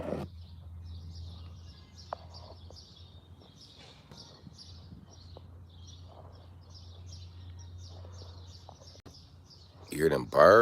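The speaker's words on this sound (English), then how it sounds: "You hear them birds? Them birds is cutting up." Birds chirp and sing steadily outdoors in repeated short bursts, moderately close, over a low steady hum, with a louder burst of noise at the very end.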